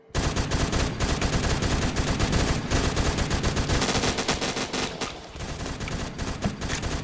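Sustained automatic gunfire in Roblox Phantom Forces, a dense, loud stream of rapid shots laid down as cover fire, nearly continuous for several seconds with no voices over it.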